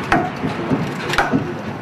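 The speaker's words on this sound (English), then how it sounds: "No matter how rigid our steel is, you're still going to get some popping and cracking." Wood piles beneath a 180-ton load settling onto skates give off sharp pops and cracks, a few distinct snaps spaced about a second apart over a low, steady creak.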